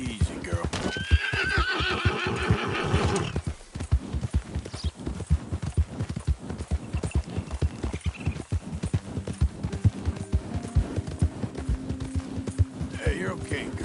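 A horse in a PS4 video game whinnies loudly near the start, then gallops in a fast, steady clip-clop rhythm, with a second brief neigh near the end.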